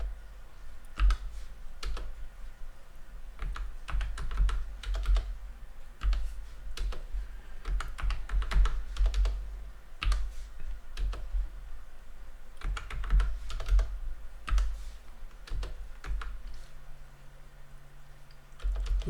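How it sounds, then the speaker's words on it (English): Computer keyboard keys clatter in quick irregular bursts of typing, close and moderately loud, while someone works on an Angular project, with short pauses between runs of keystrokes and no talking. "Now I'm going to type a period and it's going to give me a list."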